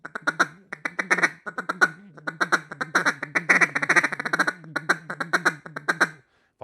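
A hand-operated duck call blown in an acorn feeding-call style, rapid chattering quacks in clustered bursts with tonal variation, loud and close, running continuously before a brief pause at the end.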